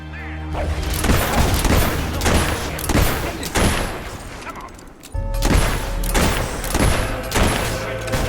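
A battle scene in the video game Fable III, with mortar blasts and sustained gunfire. Loud, dense volleys of shots and booms roll on continuously under a constant musical drone, with a brief dip before the barrage resumes.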